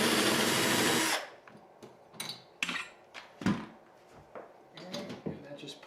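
A power drill backs screws out of door hardware in a bathroom, starting with a loud continuous whir that cuts off after about a second, followed by scattered clicks, knocks and handling noises of the hardware, with someone talking in between.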